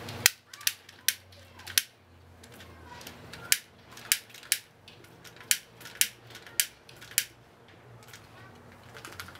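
A lighter for firing up a barbecue grill clicks repeatedly, about a dozen sharp, close snaps spaced unevenly over quiet background hum.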